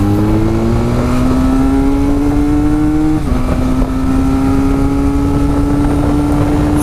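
A Benelli Leoncino motorcycle accelerating at full throttle, its engine note rising steadily through a gear, briefly dipping at a shift and climbing again, with strong wind rush over the microphone.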